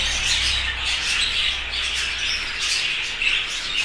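A dense, constant chorus of budgerigars chirping and squawking together, loud and close, with shrill overlapping calls and no break.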